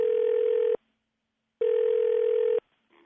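Two long ringback tones of a phone call to someone's daughter ringing out, loud and close, each about a second long with a pause between, then a faint click as the line changes.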